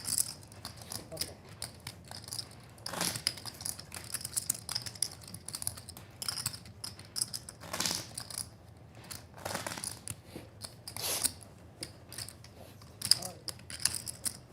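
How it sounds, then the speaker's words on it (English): An automatic card shuffler runs at a poker table during a No-Limit Hold'em final table at the Venetian, giving faint, irregular mechanical clicking and ratcheting with soft background murmur. "I have to wait for the shuffler."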